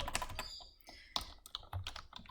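Fingers tap out a short run of quick, uneven keystrokes on a computer keyboard, soft and close with no talking.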